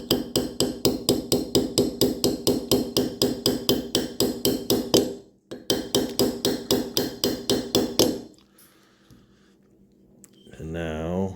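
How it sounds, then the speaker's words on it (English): A hammer tapping a roll pin into an HK416 lower receiver in rapid, even strikes, close and sharp, pausing briefly once, then stopping before a voice speaks. "I'm going to start on this side with just a hammer first."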